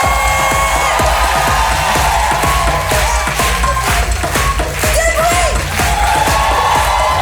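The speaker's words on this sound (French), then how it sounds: "un maximum de bruit pour Louis Catela, s'il vous plaît." Audience at a comedy stand-up show cheering and applauding for a comedian, a dense, loud, continuous wash of clapping with whoops and shouts rising from the crowd throughout.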